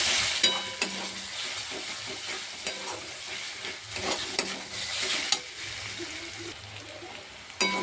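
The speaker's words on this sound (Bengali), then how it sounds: "আদা রসুনটাও ভাজা হয়ে গেছে" Ginger and garlic fry in a pan with a steady close sizzle, broken by scraping stirs and occasional clacks of the spoon, with no talk.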